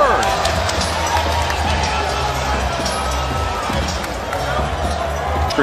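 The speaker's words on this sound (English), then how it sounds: "The crowd reacting as they get a glimpse of Gabriel Flores." A boxing arena crowd at a 2021 Filipino boxing event keeps up a steady, loud roar and murmur, dense and continuous, with commentary voices over it.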